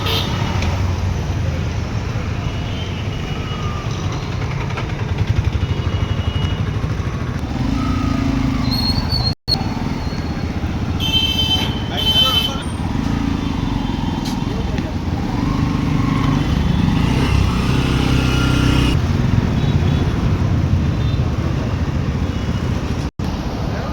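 A motorcycle rides over a working demo phone, its engine rumbling continuously close by for the whole stretch, rising and easing slightly, with someone talking over it and traffic noise around.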